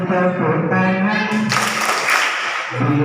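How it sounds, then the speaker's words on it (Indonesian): Children clap along during a singalong at a Maulid Nabi celebration with a Quran school group, a dense burst of hand claps under and between sung lines, loud and close, with voices singing and calling over it. "Tepuk tangannya lebih keras lagi ya."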